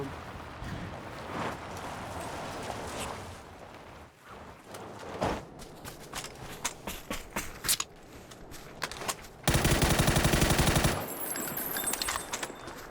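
Gunfire in the PUBG video game: scattered shots and short bursts over a busy background, then a sustained stretch of rapid automatic fire, followed by a few more scattered shots.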